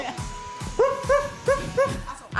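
A puppy barks in a quick run of about four sharp yips during a TV guessing game, close and fairly loud, with voices faintly around it.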